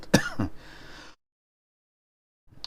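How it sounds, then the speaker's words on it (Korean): A single sharp cough close to the mic, followed by a breathy exhale, then silence and a faint sound at the very end. "죄송합니다. 목기침이 나오네."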